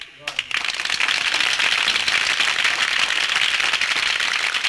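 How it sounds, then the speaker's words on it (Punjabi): Dense, steady applause from an audience at a mehfil-e-mushaira poetry gathering swells up after a brief quiet opening and holds loud and continuous throughout, with many hands clapping at once. "ਬੜੀਆਂ ਤਾੜੀਆਂ ਇਹ ਦੱਸਦੀਆਂ ਨੇ ਕਿ ਤੁਸੀਂ ਵੀ ਇਹਦੇ ਵਿੱਚ ਖਾਲਸ ਦਿਲਚਸਪੀ ਰੱਖਦੇ ਵੇ"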